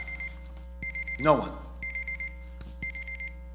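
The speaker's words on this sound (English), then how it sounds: "And I know that's the timer" Repeated electronic beeping from a speaking-time timer at a city council meeting, sounding in short bursts while a person speaks briefly over a steady background hum.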